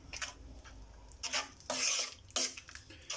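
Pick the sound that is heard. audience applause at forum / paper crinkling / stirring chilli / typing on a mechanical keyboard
stirring chilli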